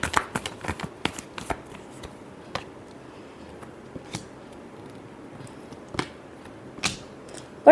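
Tarot cards being shuffled give a quiet series of crisp riffling clicks and flicks. They are bunched at first, then come in sparse taps with long near-silent gaps.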